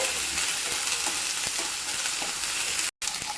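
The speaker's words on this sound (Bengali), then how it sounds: "পেঁয়াজ আদা রসুন ভালো করে ভেজে নিয়েছি ভাজা হয়ে গেছে" Onion, ginger and garlic frying in a pan for chana masala sizzle steadily and loudly up close, with light stirring clicks and no talk over it.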